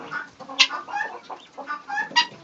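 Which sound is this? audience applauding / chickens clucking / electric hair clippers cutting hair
chickens clucking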